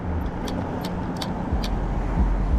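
A car passing along a city street in Paterson, New Jersey, a steady close engine and tyre roar with a low swell toward the end, heard over ongoing traffic noise without talk.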